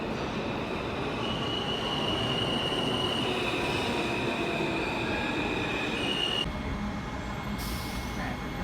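Riding a train to the airport: a steady, close rumble of the carriage on the rails with a thin, high wheel squeal running throughout and a slight shift in tone near the end.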